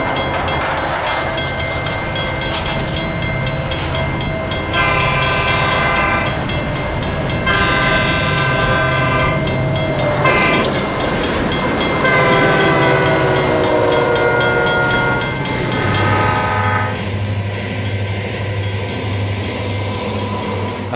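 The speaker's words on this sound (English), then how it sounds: "Amtrak 710 passes through with an SDP-40F for power" Amtrak 710 passes Nichols behind an SDP-40F locomotive, a loud sustained rumble with repeated long horn blasts and rail clatter as it goes by.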